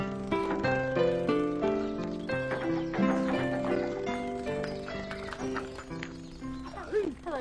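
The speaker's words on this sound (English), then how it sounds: "This is your horse for today, who you're going to be riding." Horse hooves clip-clop alongside a horse's whinny, mixed with busy tonal background sound throughout.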